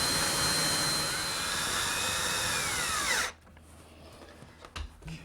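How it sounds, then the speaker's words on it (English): A power drill whines loudly and steadily while driving a screw into plantation shutters, then stops abruptly, followed by faint handling clicks and light knocks. "drill and install another screw"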